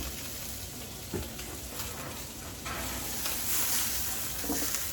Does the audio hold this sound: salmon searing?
yes